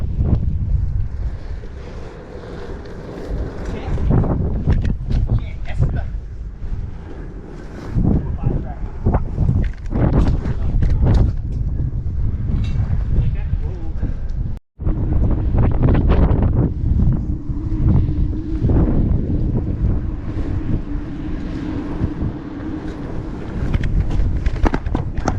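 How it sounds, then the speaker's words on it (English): Strong gusting wind buffets the microphone in a continuous roar while riding a BMX bike around the University of Maryland campus, with brief drops and surges as the bike moves. "So windy. Windy as hell."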